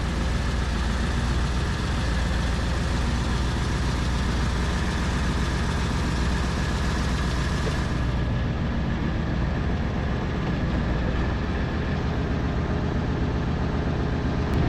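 A tractor engine runs steadily as the old farm tractor backs up to hitch an implement, a loud, continuous low idle-to-working rumble throughout with no talk.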